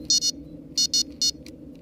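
A handheld metal detector set to its low-pitched tone gives short electronic beeps in uneven pairs and singles over a steady low hum, close and clear.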